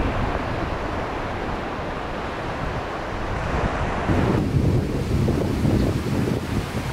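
Choppy sea at Boracay beach, with a continuous wash of waves and surf mixed with heavy wind buffeting the microphone, growing rougher and louder partway through, no voices.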